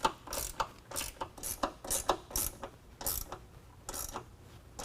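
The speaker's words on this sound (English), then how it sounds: "use a 13mm and tighten down this bolt and the nut next to it" Ratcheting 13mm wrench tightening a bolt and nut on a running board bracket of a 2020 Ram 2500, quick repeated clicking bursts in a steady cadence, close and fairly quiet.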